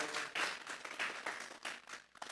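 A church congregation claps together as an offering of applause to God, a brief, fairly faint burst of rhythmic handclaps from many people.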